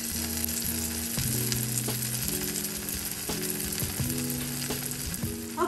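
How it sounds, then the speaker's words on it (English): Jackfruit Nashville hot chicken frying in oil, a continuous close hiss and sizzle over steady background music, with no talking. "follow me to the oven so we can start frying."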